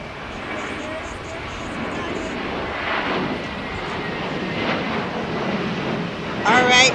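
Lufthansa 453 airliner flying at LAX in the evening, a steady broadband jet roar holding throughout, with a brief louder burst near the end.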